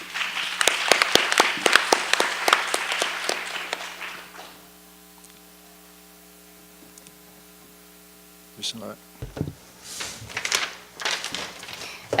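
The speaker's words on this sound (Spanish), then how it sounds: "Démosle un fuerte aplauso al profesor Fu Jie." An audience applauds Professor Fu Jie at a Mexican-Chinese sinology gathering: dense clapping for about four seconds that thins out, leaving a steady mains hum, followed later by a few scattered faint sounds.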